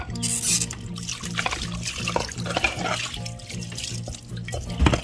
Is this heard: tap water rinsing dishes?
yes